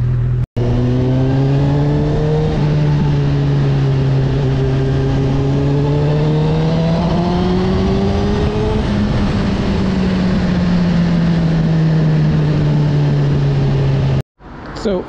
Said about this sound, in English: What sound does this bike make this time?